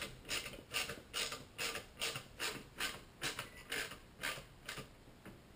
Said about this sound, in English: is install the screws again. Those tiny screws that you don't want to lose.